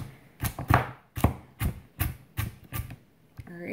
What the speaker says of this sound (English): Now time to go cut some carrots.